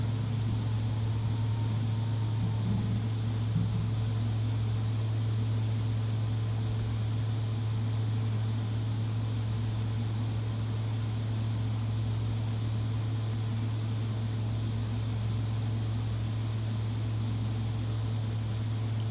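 King Air C90B twin-turboprop on final approach in X-Plane, gear down and flaps extending, gives a steady, loud, unbroken engine drone with a strong low hum and an even hiss above it, running alone throughout.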